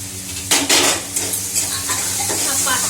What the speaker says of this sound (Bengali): জলটা ছেড়ে গেল, একটু আর মশলাটা ভেজে দিই, একটু বেশ কষিয়ে দিয়ে